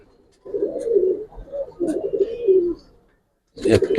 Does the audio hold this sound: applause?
no